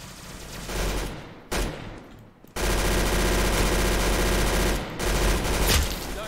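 Rifle gunfire from the Roblox game Arsenal comes in loud, dense automatic bursts. Two brief pauses break the firing, which then resumes at full strength.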